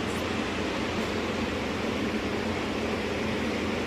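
A King Star 70 litre Maha air cooler blows air with a steady, even broadband whoosh, moderately loud and unchanging, with no voices.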